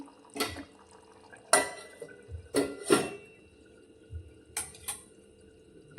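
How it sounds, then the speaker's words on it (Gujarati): A spoon stirs potato curry (bataka nu shaak) in a pot, giving about seven close, irregular clinks and scrapes of metal against metal with soft shuffling between them and no voices. "અને ફરી આપણે શાકને સારી રીતે મિક્સ કરી લઈશું."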